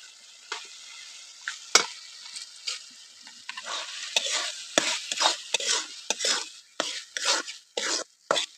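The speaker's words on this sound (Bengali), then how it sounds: "মুসুরির ডালটা দিয়ে আমি একটু কষিয়ে নেবো।" Washed red lentils stirred and fried in hot spiced oil for a Bengali-style pointed gourd dish, giving a close, busy scraping and sizzling with irregular bursts of spoon strokes that grow louder and denser partway through, with no voices.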